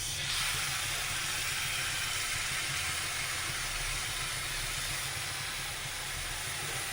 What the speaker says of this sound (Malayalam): ആ പേസ്റ്റ് ഒഴിച്ച് കൊടുക്കാം.